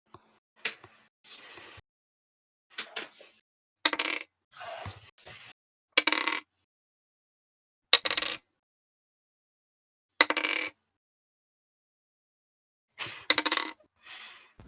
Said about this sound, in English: dice rolling sounds are always reassuring